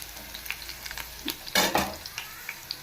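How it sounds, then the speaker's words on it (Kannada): Garlic frying in a pan for mutton sambar, a soft continuous sizzle with a louder burst of stirring and scraping midway. "ಬೆಳ್ಳುಳ್ಳಿ ಸೇರಿಸ್ತಾ ಇದ್ದೀನಿ ಹಸಿ ವಾಸನೆ ಹೋಗೋವರೆಗೂ ಚೆನ್ನಾಗಿ ಫ್ರೈ ಮಾಡ್ಕೊಬೋದು"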